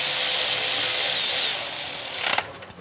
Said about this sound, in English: Then we're going to go ahead and run in the header bracket bolts.